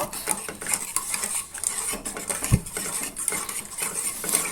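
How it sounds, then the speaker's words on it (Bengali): A spoon scrapes and clinks against a pan while yogurt is stirred into a fish curry over low heat, in quick repeated strokes with a faint sizzle beneath, close and moderately quiet. "আমি দইটাকে ভালোভাবে মিক্স করে নেব।"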